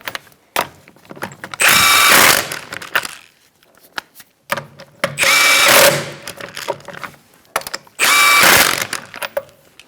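A power tool tightens the lug nuts on a 2004-2009 Mazda 3 rear wheel in three loud bursts of whirring and ratcheting, with clicks and handling noises between them.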